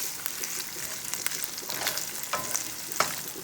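Chicken and jalapeño peppers sizzle steadily while pan frying for a Cajun chicken and sausage dish, a dense crackling hiss with sharper pops and spits scattered throughout, close up with no talking.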